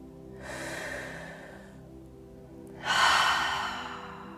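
Two deep breaths in a calm guided healing session, a long inhale followed after a pause by a stronger, louder exhale, close and alone without talking.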